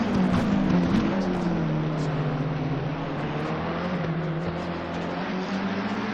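GT3 race cars, a McLaren and a Ferrari, racing at the Zolder circuit: a loud continuous engine roar that pitches down slightly and holds steady throughout, without any voices.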